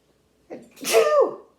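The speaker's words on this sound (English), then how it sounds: "I gotta sneeze" A single loud sneeze with a short sharp intake, then a forceful burst trailing off, close to the mic with no talking.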